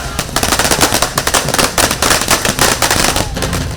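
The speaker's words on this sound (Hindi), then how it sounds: "रुझानों के आते ही पटाखे फोड़े जाने लगे" Firecrackers burst in rapid, dense crackling volleys at the Congress party headquarters during election-result celebrations, loud and continuous with near-constant overlapping pops and no clear talk.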